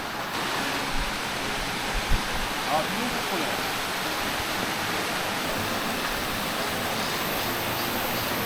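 Constant broadband rushing of a summer waterfall in Seoraksan mountains fills the scene, steady and moderately loud, with brief voices talking over it.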